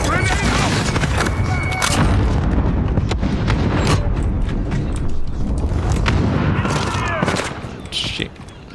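Heavy gunfire and explosions from Call of Duty: Modern Warfare on PC, a dense, continuous barrage of shots and booms that thins out near the end, with a voice talking over the battle.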